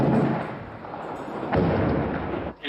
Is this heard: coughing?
no